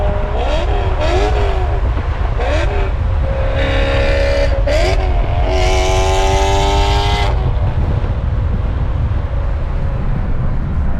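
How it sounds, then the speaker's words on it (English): BMW E92 engine droning loud and steady at cruising speed, with rising and falling engine tones from other M cars cutting up alongside, no talking. "we got that E92 sound up in the video"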